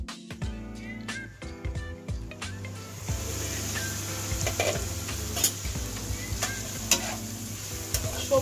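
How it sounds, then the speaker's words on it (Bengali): Vegetables fry in a hot pan for Schezwan fried rice, a steady close sizzle with the clatter of stirring over it and no talking. "সবজিটা আমার ভাজা ভাজা হয়ে গেছে"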